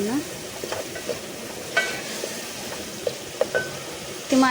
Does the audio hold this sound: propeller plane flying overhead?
no